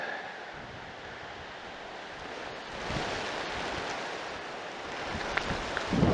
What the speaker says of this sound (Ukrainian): Сильний вітер